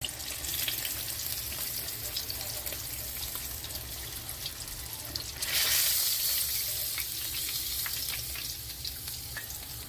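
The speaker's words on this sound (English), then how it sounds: "I cook boneless, skinless catfish strips with Hooters batter" Boneless, skinless catfish strips coated in Hooters batter fry in hot oil with a steady, close crackling sizzle that swells louder about halfway through, with no talking.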